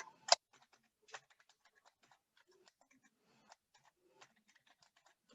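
Faint, scattered key clicks from someone typing HTML code on a computer keyboard, quick taps in uneven bursts with a couple of sharper strokes near the start and otherwise quiet, sparse tapping.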